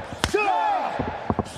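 A loud open-hand chest chop slap in a professional wrestling tag-team match, a sharp smack that rings out over a noisy arena crowd and commentators' talk, with a second hit following moments later.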